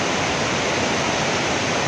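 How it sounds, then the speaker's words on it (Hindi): A waterfall pours in a steady, loud, broadband rush near a mountain road between Kel and Sharda, with no voices. "ये सामने अबशार है, बड़ी खूबसूरत अबशार है"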